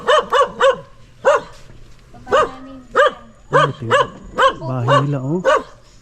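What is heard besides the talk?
dog barking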